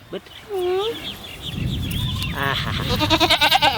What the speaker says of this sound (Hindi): ये बकरी डिरिया है